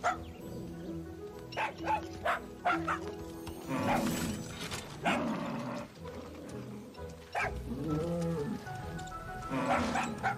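Barks and yips from a dog in a video game, loud and near, mixed with growly game effects and background sound across the whole stretch.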